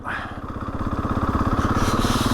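A nearby motorcycle engine rumbles with a rhythmic throb that quickens and swells as it is revved.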